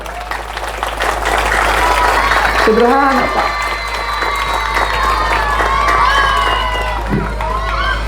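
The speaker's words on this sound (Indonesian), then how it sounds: "Maka tepuk tangan untuk orang-orang Madura." A lecture audience claps and cheers loudly and steadily throughout, with voices shouting over the applause and someone speaking briefly near the end.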